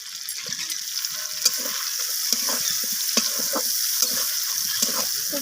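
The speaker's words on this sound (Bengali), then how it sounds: "পেঁয়াজটাকে দিয়ে আমি মাছের তেলের সাথে এইভাবে ভাজা করে নিচ্ছি" Sliced onions frying in rendered rohu fish oil in a pan, a steady close sizzle broken by repeated scraping clicks of a spatula stirring them, with no one talking.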